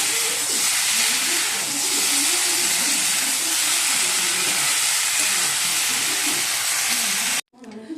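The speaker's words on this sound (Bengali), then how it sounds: "ফুলকপি আলুগুলো দিয়ে দিয়েছি, ভালো করে মশলা কষিয়ে নিচ্ছি" Cauliflower and potatoes sizzle loudly with spices in a kadai, a dense, steady hiss that runs almost throughout and then stops abruptly near the end.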